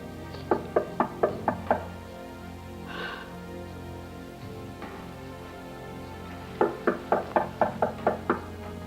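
A door is pounded and forced, two bursts of five or six hard, evenly spaced blows separated by a quieter stretch, loud and close in an indoor scene.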